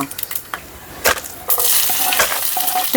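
Chopped shallots hit hot oil in a pan after mustard seeds have spluttered: a few light clinks and scrapes, then a sudden loud, close sizzle that keeps hissing steadily, no talking.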